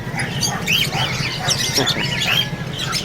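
Several pet birds squawk and chirp in overlapping calls at a pet market in Bocaue, against a steady background hum, fairly close and busy.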